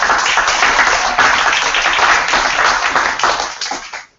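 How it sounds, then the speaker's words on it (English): An audience applauds winners and experts at a national policy conference session, a dense, steady wash of many hands clapping at close range that holds for several seconds and then tapers off quickly. "I suggest we give the winners and the experts a round of applause."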